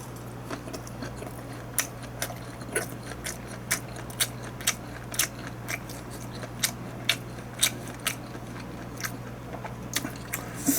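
Bites and chewing on a reheated, red-tinted sausage bar studded with spicy Cheongyang chili peppers, a steady run of sharp, close crunchy bites repeating about every half second over a low steady hum, with no talking.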